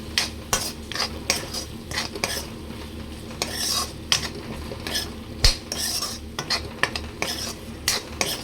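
A spoon clatters and scrapes through chicken cashew curry in a pan after chili powder and salt go in, in a steady run of stirring strokes with a faint sizzle underneath.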